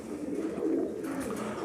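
Tippler pigeons coo softly in low, throaty murmurs, a steady gentle burbling close by with no talking.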